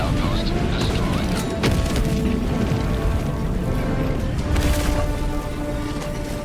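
A destroyed alien Illuminate outpost erupts in loud, dense, sustained blasts and crashing debris within the Helldivers 2 battlefield, with heavy rumbling booms peaking early and again near the end over constant combat din.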